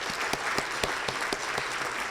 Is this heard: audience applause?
yes